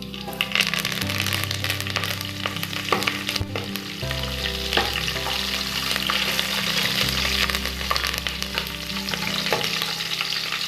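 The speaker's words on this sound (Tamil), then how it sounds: "வடகம் கொஞ்சம் போட்டுக்கோங்க. எல்லாம் பொரியட்டும்." Vadagam and curry leaves frying in hot oil for a potato kara kulambu, a dense, loud, continuous sizzle and crackle up close with occasional sharp pops and stirring scrapes.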